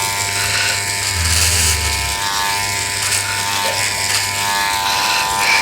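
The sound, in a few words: electric hair clipper cutting a boy's hair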